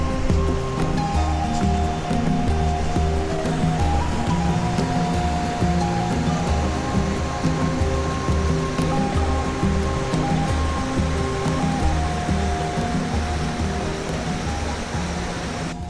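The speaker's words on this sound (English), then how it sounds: "it's so nice to hear like the little waterfalls or rivers" Small waterfalls and streams at Thirlmere in the Lake District pour with a steady, dense rush of water, close and continuous throughout, with no talking.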